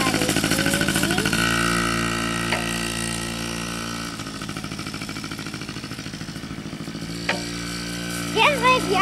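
A Yamaha PW50 mini motorbike rides around a circuit, holding a steady buzzing small-engine tone that dips and recovers midway. Brief voices come in near the end.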